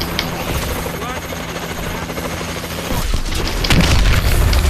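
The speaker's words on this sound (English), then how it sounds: "we can see the warbird. So it's going to come down" Warbird aircraft descending in Call of Duty Advanced Warfare zombies mode: a loud rotor-like thrumming roar over game noise, swelling in the last couple of seconds with booming impacts and bursts of gunfire.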